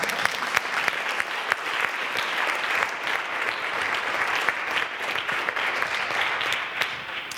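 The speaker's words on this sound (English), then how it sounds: "So can we give him another round of applause?" A crowd gives a panelist another round of applause at a health equity panel event: full, sustained clapping at an even, fairly loud level from start to finish, with no speech over it.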